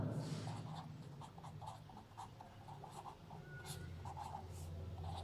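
Chalk or marker scratching across a board during a chemistry lesson, a quiet run of short strokes and taps in a rhythm of writing, close and soft with no talk.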